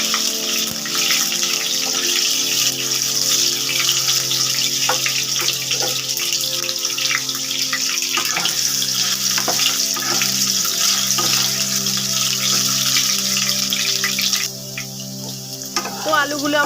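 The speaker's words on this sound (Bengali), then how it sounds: "তো তেলটা আমার গরম হয়ে গেছে, এবারে আমি কেটে রাখা আলুগুলো দিয়ে দিলাম। আলুগুলো একটু লাল লাল করে ভেজে নেব।" Cut potatoes frying in hot oil for a vegetarian khichuri, a steady bright hiss and crackle running throughout with faint clinks of stirring, loud and close, easing slightly near the end.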